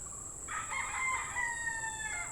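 A single rooster crow rises from a steady high-pitched hiss, moderately distant and fairly faint.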